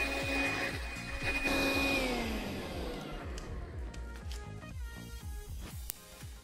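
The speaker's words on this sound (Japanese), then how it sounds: "まずはリンサークリーナーを使用する前にアステリズムのゴミを掃除機で吸い取ります。" A steady vacuum cleaner motor whine with a falling pitch and rapid rhythmic clattering as it sucks debris from car floor mats close by, slowly winding down toward the end.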